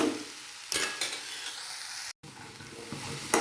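Patta kobi (cabbage) bhaji with dal is stirred in a pan: a close frying sizzle is broken by several scraping strokes of the spoon, and a split-second dropout falls in the middle.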